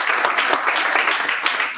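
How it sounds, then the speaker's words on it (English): Dense, steady applause from an audience at a leadership summit in Tshwane, a continuous wash of many hands clapping at close range with no break. "A round of applause."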